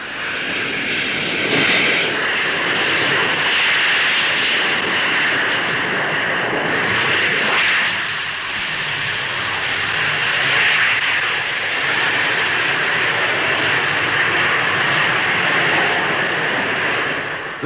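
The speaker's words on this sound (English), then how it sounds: "Powered by 4 Rolls-Royce Avon jets, its takeoff run is exceptionally short." A four-engined Comet jet airliner powered by Rolls-Royce Avon engines takes off at Farnborough in the 1950s, a loud, sustained jet roar with a steady high whine that swells and holds throughout, no voices heard.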